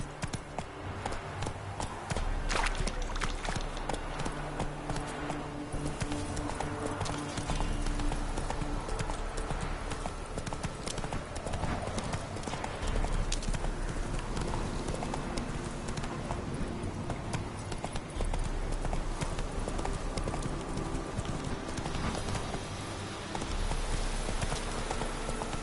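Horse hooves clip-clop steadily at a walking pace, close and loud throughout, with a rhythmic, unbroken beat and no talk.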